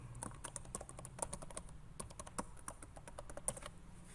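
Rapid, uneven keystrokes on a computer keyboard as a password is entered, the clicks close and fairly quiet with brief pauses between bursts, no voices.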